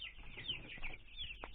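Broiler chickens in a farm shed make soft, overlapping clucks and murmurs, a brief close flock sound with no voices.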